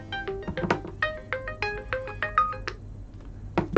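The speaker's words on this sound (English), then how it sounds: "Sorry, that's my alarm." A phone alarm chimes a quick, bright melody of plinking notes, fairly close, followed by a brief pause and a restart.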